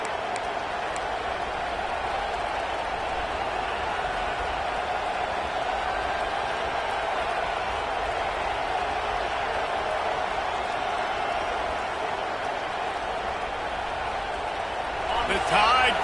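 A steady wall of college football stadium crowd noise on third down, a broad rolling roar from the Alabama crowd that holds evenly and swells slightly near the end.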